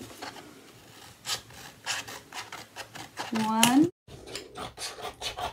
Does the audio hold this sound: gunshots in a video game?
no